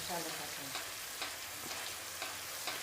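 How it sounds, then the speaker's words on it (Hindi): Black cardamom and chili roast in hot oil for a fish curry, giving a steady broadband sizzle with a few sharp spoon-stirring scrapes spread across the clip. "ये हम इसको भून लेंगे थोड़ा सा, ताकि इसकी खुशबू और महक पूरी हो जाए।"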